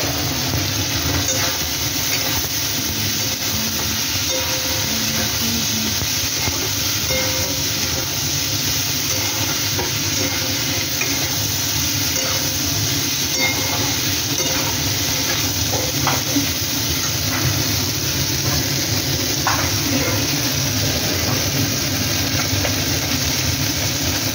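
Diced eggplant frying in a pan with turmeric, a loud steady sizzling hiss that runs unbroken for over twenty seconds with a low rumbling undertone and faint scattered clicks, no speech.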